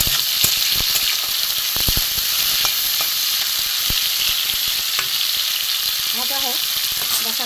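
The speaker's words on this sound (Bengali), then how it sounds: "আমার উচ্ছেগুলো দেখুন লাল করে ভাজা হয়ে গেছে।" Bitter gourd slices frying in oil in a pan, a steady loud sizzle running throughout with occasional stirring clicks and scrapes.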